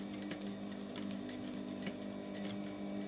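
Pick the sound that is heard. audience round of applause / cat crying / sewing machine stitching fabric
sewing machine stitching fabric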